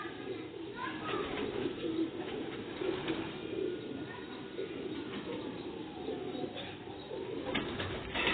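Pigeons coo softly in a loft, low repeated calls over a steady hiss of background noise, with faint voices now and then.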